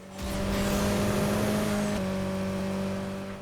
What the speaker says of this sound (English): I'm going 200 plus in a 6-speed Evo 10. No biggie. Turbo flutter!